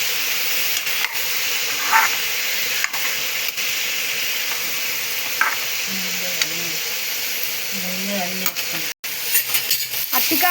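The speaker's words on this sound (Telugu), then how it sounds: "అరటికాయలు వేసుకొని ఫ్రై చేసుకుంటే" Steady sizzling of raw banana frying in hot oil, with occasional stirring scrapes and brief low voices in the background.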